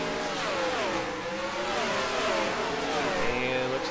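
Several race cars leaving pit road during the first round of pit stops in a NASCAR racing video game, engines revving and shifting in overlapping rising and falling whines, steady and fairly loud, with a faint voice underneath.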